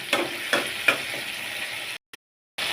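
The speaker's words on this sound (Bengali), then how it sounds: "এই ঝোলটা একদম শুকিয়ে ফেলবো, মাখা মাখা হবে মাছটা।" Salted hilsa fish curry sizzling in a pan as its gravy cooks down, a steady frying hiss with a few sharp stirring clinks early on, then a brief cut to silence before the sizzle resumes.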